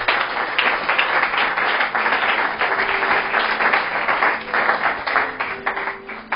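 A church congregation applauds at a Sunday service, a dense, steady wash of clapping from many hands that carries on for several seconds without pause.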